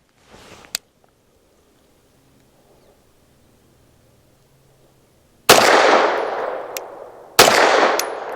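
Two loud, close pistol shots from a Bersa M2XI firing Federal Ballistic Clean 100-grain lead-free frangible rounds, each a sharp crack with a ringing decay, spaced about two seconds apart after a stretch of near silence.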